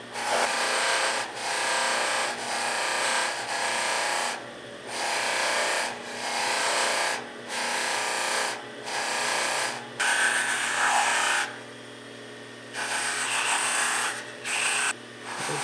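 A turned pen is pressed against a spinning buffing wheel loaded with tripoli compound, giving a steady whirring rub in repeated bursts of about a second each, separated by short pauses, close and fairly loud.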